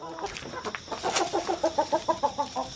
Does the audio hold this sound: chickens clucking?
yes